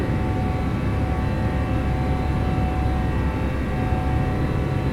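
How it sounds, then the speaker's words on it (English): Flaps extending on a Boeing 777-200ER in the X-Plane 12 flight simulator, heard as a steady, loud cabin drone with a faint tonal hum running throughout, with no talk. "Even the sounds for the flaps and that on this are really good."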